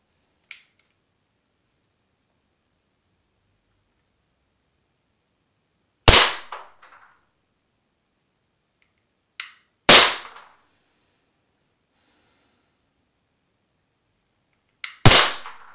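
Five sharp single shots from a service pistol in a BDMP shooting discipline ring out with long pauses between them, a couple of quick pairs, loud and close with brief echoes.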